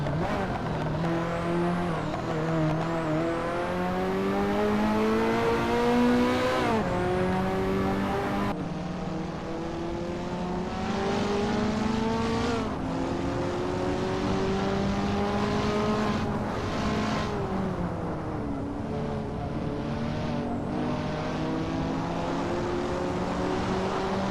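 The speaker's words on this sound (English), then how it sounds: "That's a noisy car." A loud video game race car engine whines continuously, its pitch climbing and dropping repeatedly as it revs through gears, with no voices.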